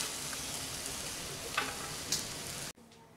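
Baingan bharta, village-style mashed eggplant with green coriander, sizzles steadily in a pan, a close and even frying hiss with a few soft stirring clicks before it suddenly drops to near silence.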